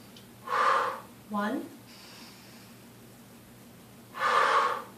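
A sharp exhaled breath during a core exercise of drawing elbow to knee, heard as two short forceful puffs near the start and another a few seconds later, close and clear, with a brief spoken count between.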